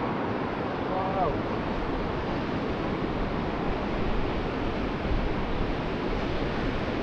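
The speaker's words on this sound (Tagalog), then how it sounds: "Kita mo ang alon na." Sea waves along the Greenway in Dungarvan, Ireland, a constant broad wash of surf mixed with strong wind buffeting the microphone, loud and unbroken throughout.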